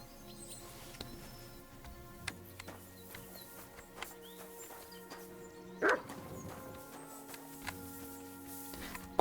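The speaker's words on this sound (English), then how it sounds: "Barking." A dog in the medieval game Kingdom Come: Deliverance II barks a few times at a distance, faint short yips scattered over quiet ambient game sound with one slightly louder bark partway through.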